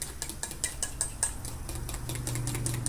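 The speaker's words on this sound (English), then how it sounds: "I'm just mixing this in." A spoon clicks and scrapes briskly against a bowl as cake pop batter is stirred by hand. The rapid rhythmic taps sit close and clear, and a faint steady hum from a cake pop maker runs beneath.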